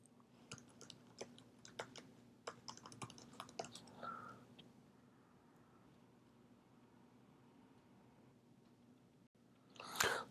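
Computer keyboard typing while logging on to a cloud trial account, a run of quiet, irregular key clicks in the first half, then a low hum and a louder rustle at the very end.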